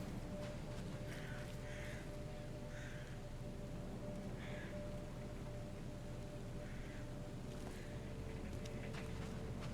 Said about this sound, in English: the crows in the game, they sound exactly like my notification